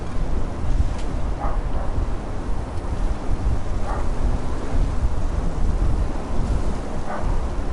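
Rumbling thunder rolls through a lightning storm in a PlayStation 4 video game, a deep continuous roar over steady rain-like noise, with a few faint higher crackles scattered through it.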